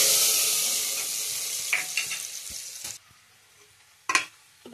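Panch phoron and dry red chillies sizzling in hot mustard oil, a steady broadband hiss that slowly fades, with a few stirring scrapes, a quiet pause, then a brief fresh burst of sizzle near the end.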